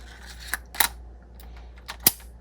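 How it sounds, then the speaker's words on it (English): A hole saw clicking as it locks onto a drill mandrel while being fitted for cutting gourds, heard as a few sharp, close mechanical clicks and snaps spread over a couple of seconds in quiet surroundings. "You will hear a click when it's firmly in place."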